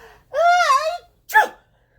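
A voice actor playing the wolf narrator imitates a big sneeze: a long rising, wavering breathy intake followed by a sharp, short explosive burst, close and alone.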